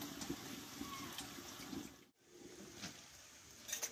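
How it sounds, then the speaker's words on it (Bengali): Water runs and splashes faintly and steadily as a bowl is rinsed and a little water is added for dissolving jaggery for a jujube pickle, with a brief break midway. "এই বাটিটা ধুয়ে আমি একটু অল্প করে জল দিয়ে দেবো, দিয়ে গুড়টাকে আমি ভালোভাবে গুলিয়ে নেব"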